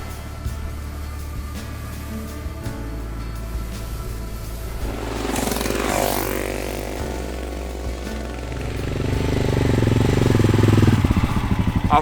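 Motorcycle engine riding along a canyon road in Bulgaria, a steady close drone that swells louder toward the end as the bike accelerates.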